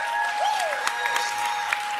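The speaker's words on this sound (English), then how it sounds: "rousing applause in the audience there" Audience applause in a studio, a steady broad wash of clapping with a few sharper claps poking through and a faint whistling tone drifting over it.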